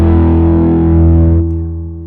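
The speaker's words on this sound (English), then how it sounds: "And I really like the kinky boost it's called." An electric guitar through the Kinky Boost effect on a Line 6 HX Stomp XL, loud, driven and distorted, holding a thick sustained chord before it is cut off and the tail fades away.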